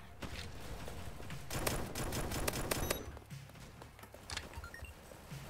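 Rapid bursts of gunfire from a gun in a Roblox shooter, a cluster of sharp close shots in the middle, then scattered quieter pops, with no talking over it.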